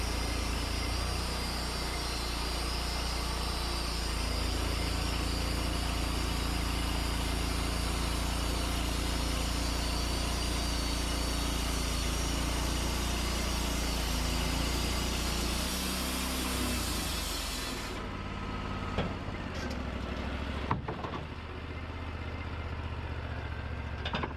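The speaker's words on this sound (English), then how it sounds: "Here I'm milling some batten strips for a friend of mine." A Wood-Mizer LT40 Wide sawmill cuts batten strips, a loud continuous engine and blade drone that drops off near the end into quieter rumbling with a few clunks.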